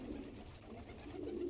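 Andhra Abluk pigeons give a soft, continuous low cooing, fairly faint and steady throughout with no talking.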